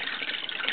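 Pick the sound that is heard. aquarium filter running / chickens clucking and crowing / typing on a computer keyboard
aquarium filter running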